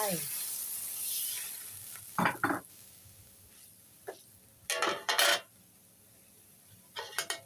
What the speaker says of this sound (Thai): เอาน้ำใส่ลงไป